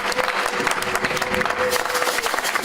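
A church congregation claps together at a worship service, a dense, steady round of applause from many hands filling the room for a few seconds.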